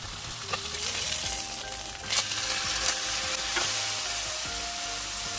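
A strip loin steak fries in a hot pan with a steady, close sizzle. Occasional scraping and stirring clicks rise above it, and nobody speaks.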